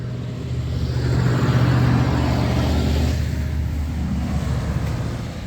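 Heavy trucks rumble past on a road in Dubai, a steady loud low engine drone swelling and fading slightly as they go by, with no voices.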